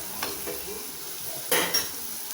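Chillies frying in hot oil in a pan, a soft steady sizzle with a few louder bursts of stirring and spatula scrapes against the pan near the end, no talking.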